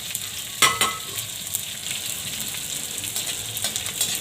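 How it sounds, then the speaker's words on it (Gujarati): Edible gum (gond) frying in hot ghee, a close, crackling sizzle with a sharp burst of popping early on and lighter spits and crackles continuing steadily, no voices. "થોડો ગુંદ નાખીને આપણે આને તળવાનો છે."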